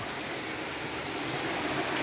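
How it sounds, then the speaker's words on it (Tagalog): Water rushing at Busay waterfall on Camotes Island, a dense, steady broadband roar of flowing water heard up close, constant and unbroken throughout. "Look at the flow of the water."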